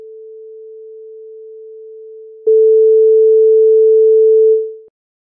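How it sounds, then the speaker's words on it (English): A steady pure tone holds at one pitch, then jumps louder for a couple of seconds before cutting off abruptly. "Pure sine wave tones with one fixed frequency don't exist in nature."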